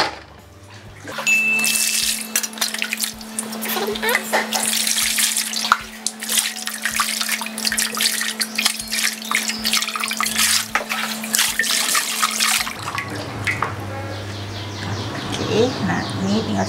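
Kue keranjang, a sticky Chinese New Year rice cake, is rinsed under a running kitchen tap. Water gushes steadily and splashes close by while someone talks over it, and the flow changes near the end.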